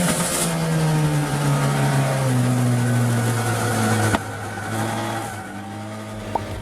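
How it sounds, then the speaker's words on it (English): A race car on track drops from fourth to second gear, its engine note falling in stepped pitches as revs rise and sag, loud and close before a sudden quieter stretch and a brief click. "I've done a big double downshift going from 4th to 2nd"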